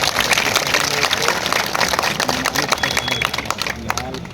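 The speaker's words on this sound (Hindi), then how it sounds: "ताली बजा के स्वागत करो भाई" Crowd clapping to welcome guests at a 77th Republic Day celebration in Kanti, a dense, continuous patter of many hands with a voice speaking over it.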